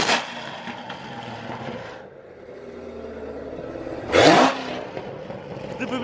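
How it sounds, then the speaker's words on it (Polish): A 704 hp Corvette Z06 with a loud exhaust idles with a low rumble, then gives a sharp, roaring rev close by that swells and quickly drops back. "No i tutaj najgłośniejszy wydech."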